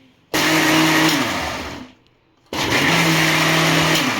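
A kitchen mixer grinder pulses a cooled, cooked spinach mixture in two loud whirring bursts with a short pause between, the motor pitch sagging as each burst winds down.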